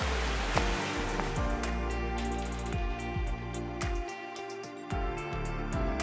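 A brook tumbling past a vacation house, a steady full-bodied rush of water with broad hiss, loud and continuous with no voices and a few sharp knocks and thumps.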